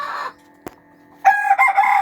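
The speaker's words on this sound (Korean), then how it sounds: "백봉이 또 알을 낳는다고 자꾸 소리를 지르군요." A silkie hen loudly cackles after laying an egg, two bursts of clucking calls separated by a short quiet gap with a single sharp knock between them.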